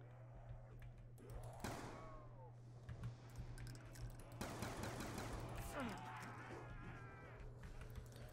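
Rapid pistol shots in Black Ops 2 Zombies on the Mob of the Dead map ring out in bursts over a steady game hum, with chatter and other game effects mixed in.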